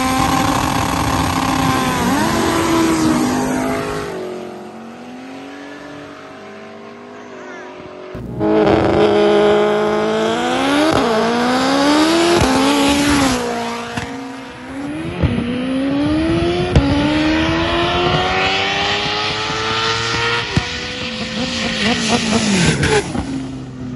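A 1400 hp all-wheel-drive Honda Civic EG race car, heard from on board, screams loudly through repeated gear changes, with rising engine pitch, a brief lull, then hard acceleration again, and a voice over it at times.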